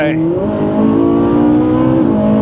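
Ferrari 458 Italia sports car engine, a V8, revving loudly and close with a steady rising and holding drone, with a brief voice near the start.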